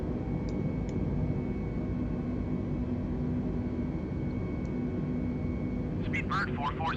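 A steady, loud broadband engine roar from an A320 airliner climbing after takeoff in Flight Simulator 2020, constant throughout with faint clicks, and a brief voice near the end.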